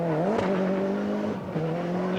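A Toyota rally car driving on a punctured tyre with only three inflated wheels keeps up a loud, steady engine drone, its pitch rising and dipping briefly mid-run. It sounds close and is heard alone without speech.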